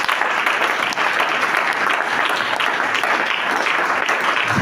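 A church congregation applauding, dense and steady clapping that fills the room without a break for several seconds, loud and close.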